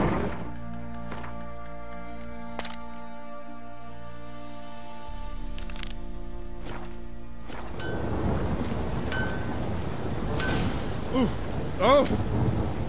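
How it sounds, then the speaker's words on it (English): Light drizzle falls in a fantasy game world, a soft steady patter building after a stretch of droning ambient tones, with a rumble of thunder and scattered drops carrying on to the end. "Oh, it's drizzling."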